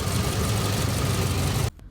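Toyota Alphard 2.4 minivan engine idling steadily and close for under two seconds before cutting off abruptly.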